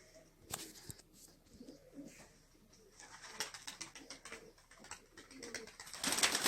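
Pigeon of the Gök dişi breed, five years old, cooing softly at close range amid rustling and scattered clicks, with a louder burst of noise at the end.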